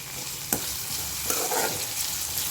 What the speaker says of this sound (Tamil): அதையும் சேர்த்து நல்லா வதக்கிக்கிடுவோம்.